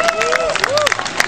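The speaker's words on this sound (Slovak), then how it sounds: "takže potlesk pre nich za odvahu" An audience applauds dance competitors at a folk festival in Myjava. The clapping is brief and loud, with a Slovak-speaking voice over it.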